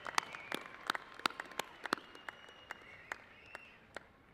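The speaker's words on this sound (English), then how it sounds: "Applaud them as you stand here ready to graduate." Applause at a university graduation commencement ceremony, a thin, scattered patter of individual claps, fairly distant and quiet, with uneven rhythm and no voices over it.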